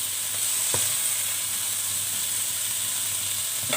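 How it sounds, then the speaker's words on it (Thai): A beef steak sears in a pan over high heat, giving a steady, even sizzle with a couple of faint clicks and no speech. "ใช้ไฟแรงเพื่อที่จะให้ เนื้อของเรานะคะ มี สีสันเกรียมนะคะนิดนึง"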